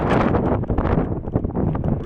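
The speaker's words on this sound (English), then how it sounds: "Y'all can hear the wind so strong up here" Strong wind buffets the microphone on an exposed mountain lookout, a loud, continuous roar with gusty surges and no pauses.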